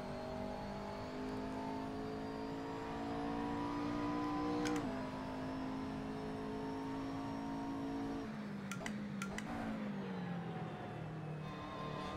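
A McLaren GT3 race car engine in a racing video game holds a steady, strong tone, eases and shifts pitch around mid-run, then drops with a few sharp clicks as revs fall and rise again, continuous and fairly close.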